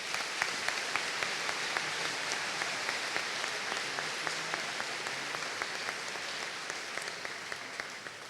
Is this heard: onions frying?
no